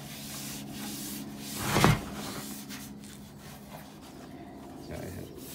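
A gray abrasive pad rubs across a 1949–1950 Plymouth car dashboard to dull its gloss, a soft, close scrubbing hiss with one louder swipe midway.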